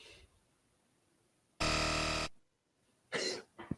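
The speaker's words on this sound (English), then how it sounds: "I did not listen to these buzzers before I put them in here" A quiz-show buzzer sound effect dropped into a college basketball trivia segment: one loud, sustained harsh buzz of roughly two-thirds of a second, then silence and a shorter burst near the end.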